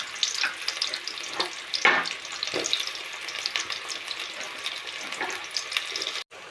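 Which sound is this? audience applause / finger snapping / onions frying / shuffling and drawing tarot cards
onions frying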